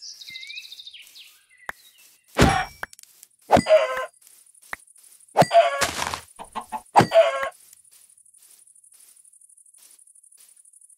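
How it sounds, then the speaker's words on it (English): Minecraft chickens clucking in short, scattered bursts among other game sounds, with a few sharp clangs and hits, and a steady faint high tone running underneath. "Chickens up here."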